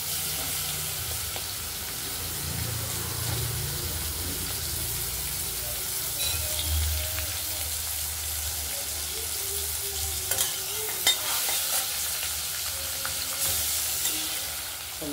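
Shrimp rubbed with salt and turmeric frying in a kadai with tempering, a steady loud sizzle and crackle with stirring scrapes throughout and no talk.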